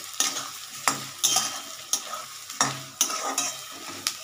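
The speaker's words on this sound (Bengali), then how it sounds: "নারকেলটা দিলাম, নারকেলটা এটা ভাজা হচ্ছে" Grated coconut frying in a kadai for a banana-flower curry, with steady sizzling under repeated scraping stirs of a spatula at a brisk, uneven rhythm. Heard close and alone, with no talking.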